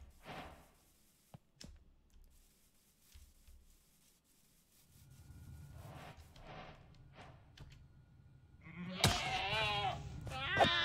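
Minecraft goat bleating in the FTB Skies modpack, a short bleat near the end following soft clicks and rustling game sounds, fairly close and clear.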